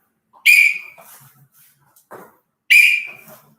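Two sharp, loud whistle blasts in a black belt martial arts class, the second about two seconds after the first, with faint shuffling sounds in between.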